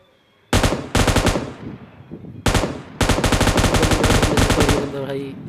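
Loud bursts of automatic gunfire from the PUBG Mobile Lite game, several rapid strings of shots separated by brief pauses, the last burst long and sustained.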